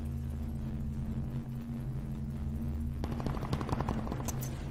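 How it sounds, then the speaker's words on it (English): Video game gunfire cutting through a barricade: rapid automatic shots break out in the last two seconds as a dense crackling burst over a steady low hum, with no talk during the firing. "It'll actually shoot through a barricade."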